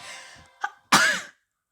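A man coughs close to the microphone during a Brawl Stars gaming session: a short throat-clearing burst, then a louder, harsher cough, followed by silence.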